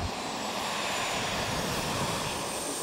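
A heavy, high-speed multi-engine RC airplane with retractable gear, the PTERA used in NASA research, makes a steady, loud, continuous engine roar with no breaks.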